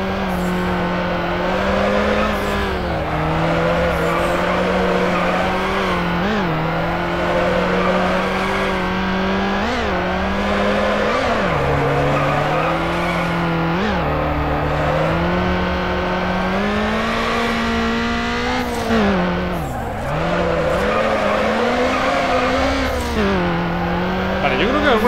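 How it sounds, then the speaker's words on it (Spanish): In Need for Speed Underground 2, a Nissan 240SX drifts with engine revving high and repeated tire skids and squeals as it slides through corners, loud and continuous, with someone talking over it. "El drift es llevar el coche derrapando"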